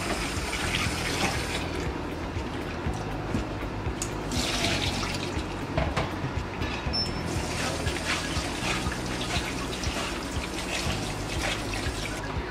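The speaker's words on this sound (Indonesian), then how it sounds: "Yang pertama, kita cuci kulit dan kepala udang." Tap water runs steadily into a sink while shrimp shells and heads are washed, a continuous splashing rush with small shifts in the flow from handling.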